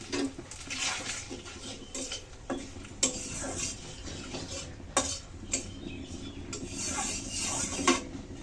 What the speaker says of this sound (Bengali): তেল সুন্দর গরম হয়ে গেছে এখন দিয়ে দিচ্ছি তেজপাতা শুকনো লঙ্কা